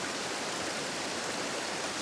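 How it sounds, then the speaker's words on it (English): A waterfall in an autumn landscape rushes in a steady, dense, loud roar of falling water, with no pauses and no voices. "Beautiful waterfall."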